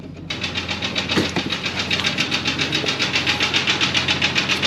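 A Jeep 4.0 engine idles with a steady, rhythmic ticking knock repeating rapidly throughout, loud and close, with no talking.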